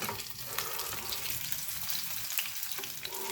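Masala-coated fish frying in oil over a medium flame, a dense, steady sizzle with fine crackling, close and moderately loud throughout.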